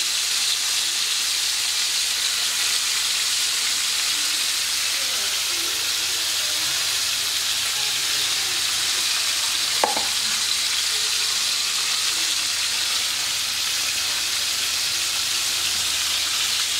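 Carp and small dadna fish fry in a pan in a Bengali village kitchen, giving a steady, loud broadband sizzle and hiss throughout, with a brief clink near the middle.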